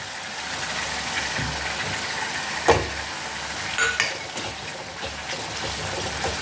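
A steady hiss of ground spice paste sizzling in a hot pan for Tamil pepper-garlic kuzhambu, with a few clinks and scraping stirs rising above the continuous frying noise.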